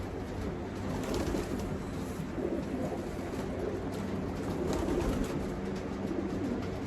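Pigeons coo steadily in a loft holding show birds, soft low murmuring calls overlapping continuously throughout with no talk.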